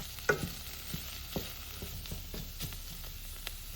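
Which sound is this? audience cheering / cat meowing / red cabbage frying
red cabbage frying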